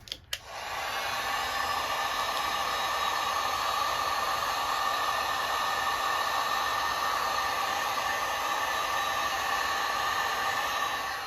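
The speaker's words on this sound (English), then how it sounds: "I've got a heat gun here too, which is gonna help make it more pliable." A heat gun warms an old, shriveled vinyl lawn mower decal, giving a steady, loud, continuous blowing hiss that starts abruptly after a brief click and runs unbroken to the end.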